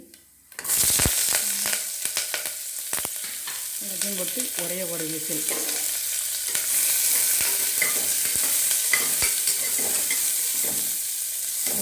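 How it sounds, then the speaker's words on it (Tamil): Onions frying in hot oil inside a pressure cooker during tempering, with a steady close sizzle and scattered sharp stirring clatters. A voice speaks briefly partway through. "அதிலேயே தாளித்து வெங்காயம் வதக்கி"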